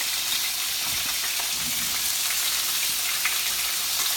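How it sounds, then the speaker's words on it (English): Brussels sprouts frying in a pan alongside other food, giving a steady, dense sizzle with faint crackles throughout, close and even in level, with no talking. "So in the balance of this pan right here, I'm going to cook my my Brussels sprouts."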